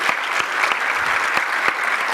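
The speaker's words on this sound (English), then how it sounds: "Please give him a very warm round of applause." Steady applause from a crowd at a graduation luncheon, dense continuous clapping with a few sharper individual claps standing out, fairly loud throughout.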